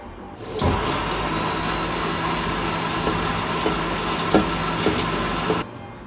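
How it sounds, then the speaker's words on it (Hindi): An electric grinder blends dried apricots with black salt and mint leaves, its motor whirring loudly and steadily for about five seconds before cutting off abruptly, close up with no talk. "अब हम इसे ग्राइंड करते हैं"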